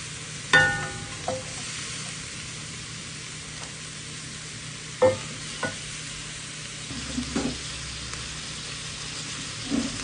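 Boiled beef sizzles steadily in a pan with garlic and onion, a soft continuous hiss broken by occasional sharp clinks and scrapes of a utensil stirring.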